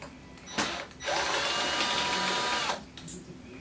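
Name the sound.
removing a screw from a Panasonic stereo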